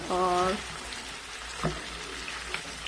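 Chopped ginger fries in hot oil for a Balochi lagan gosht meat curry, a soft steady sizzle with occasional pops, briefly overlapped by a short voice at the start.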